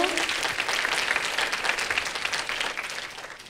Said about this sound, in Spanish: muchísimas gracias, Belén Torregrosa, Veganic Nature, un fuerte aplauso